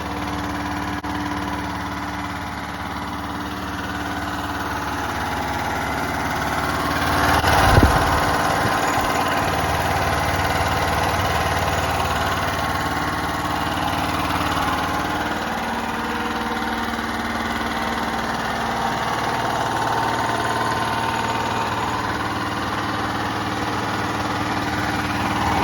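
A Generac XT8000E portable home generator engine runs at a steady, loud idle-like drone throughout, with one brief thump partway through and no voices.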